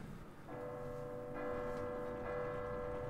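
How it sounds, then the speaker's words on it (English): A loud bell tolls in Resident Evil 2, sustained ringing tones swelling in at least twice and hanging over a low background rumble, with no voices. "your entire house is about to be woken up by this loud fucking"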